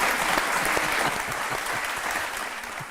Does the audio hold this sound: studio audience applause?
yes